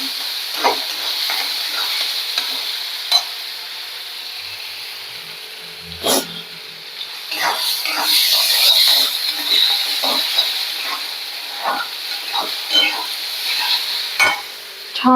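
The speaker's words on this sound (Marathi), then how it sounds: "तो पण छान परतून घ्यायचा आहे पण मग तांबूस होऊन द्यायचा आपल्याला हा लसूण" Chopped onion and garlic sauté in a pan for a Konkan-style fresh cashew curry, giving a steady close sizzle broken by scraping stirs and clinks of the spatula, with no talking.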